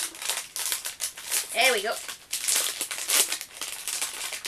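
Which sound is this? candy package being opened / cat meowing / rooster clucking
candy package being opened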